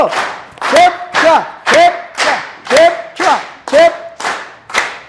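An audience at a business training session claps in rhythmic unison, about ten loud, evenly spaced beats, with voices shouting along on each beat.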